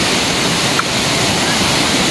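River water rushing in a steady, loud, dense broadband roar close by at a nature camp river crossing, unbroken across the short stretch.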